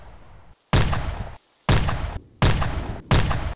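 Artillery fires in the video game Arma 2 as four loud, booming blasts at roughly regular intervals, each with a short rumbling decay.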